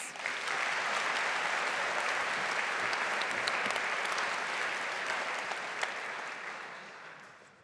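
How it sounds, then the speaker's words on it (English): A pitch competition audience at All Energy Day 2023 applauds Plense Technologies: dense, steady clapping from a large crowd that holds for several seconds, then tapers off toward the end. "Can I give a very, very big round of applause for Plense Technologies?"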